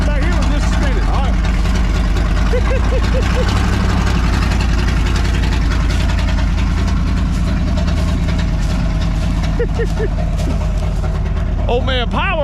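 A 1979 Chevrolet Squarebody's 350 V8 held on the brakes and revved, a loud continuous rumble with rising and falling rev sweeps, close by, with brief voices in the background.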